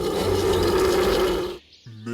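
A cartoon lion lets out a loud, sustained roar that fills most of the clip, then cuts off abruptly, followed by brief quieter sounds.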